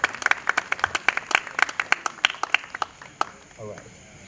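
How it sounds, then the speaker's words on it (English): Wedding guests at a Goan wedding reception in Betalbatim clapping for the anniversary couple, a scattered round of handclaps from a crowd that thins out, with a voice briefly heard at the end. "Can we clap for the anniversary couple,"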